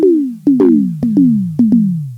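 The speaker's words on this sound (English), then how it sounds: "I usually use the number 93 tom because it sounds like this" The number 93 tom preset on a Casio keyboard plays six electronic tom hits, each a punchy downward pitch sweep, struck in quick uneven pairs, loud and close with no talking.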